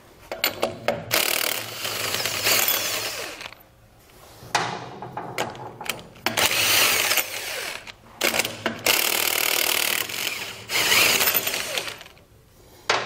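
A power tool spins off trailer wheel lug nuts for a Dexter axle fitting, giving several loud rattling bursts of a few seconds each, broken by short gaps and metallic clinks.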